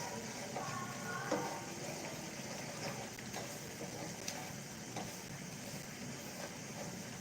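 Tomatoes fry in a hot pan with steady broadband sizzling and crackling, continuous and fairly close with occasional small pops.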